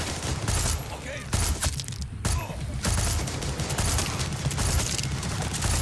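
Far Cry 6 gunfire crackles in dense, rapid bursts with a brief lull near the two-second mark, loud and continuous over the game's background sound, with a voice talking now and then.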